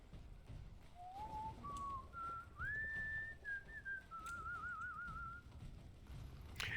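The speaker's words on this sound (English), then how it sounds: "do you think the normal Canuck voice actor was the one whistling?" A character in Guild Wars 2 whistles a wandering tune of rising and falling notes, ending in a warbling trill, clear over a low rumble of game ambience.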